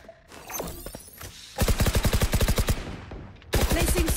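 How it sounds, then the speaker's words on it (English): A swarm grenade goes off in the tactical shooter Valorant: a fast rattling burst of many small pops running close and loud for over a second, then a second dense burst after a short lull. "Placing swarm grenade."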